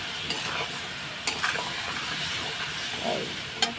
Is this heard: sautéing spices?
yes